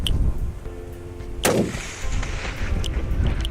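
A Ruger rifle fired at a distant target at long range: a single sharp, loud gunshot crack with a rolling echo tail, set against steady outdoor wind noise and no talking.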